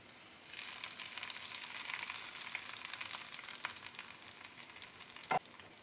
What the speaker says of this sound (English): Now you want to fry the garlic until it's nice and golden brown.